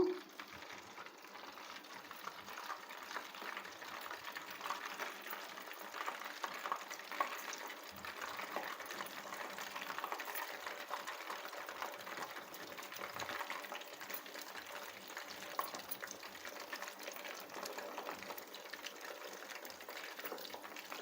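Crispy chicken pakodi frying in hot oil gives a steady, fairly quiet sizzle that runs on without a break, with no talking over it.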